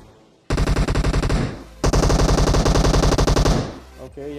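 Rapid automatic gunfire in a battle royale video game rattles out in two long, loud, evenly paced bursts separated by a brief pause.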